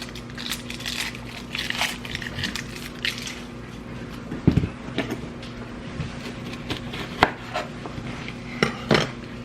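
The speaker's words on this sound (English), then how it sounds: "Just a little bad spot in the skin, so we just sliced it off." A kitchen knife cuts a bad spot from a tomato's skin, giving soft scattered clicks and squishy cutting taps, with a couple of louder knocks against a steady low hum.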